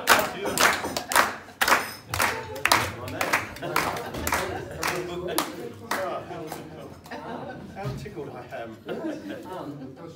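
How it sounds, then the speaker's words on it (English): Diners at a 41 Club charter dinner clap and thump in a loud rhythmic beat, then break into looser clapping, cheering and chanting voices amid crowd chatter. "Stop for a round of applause"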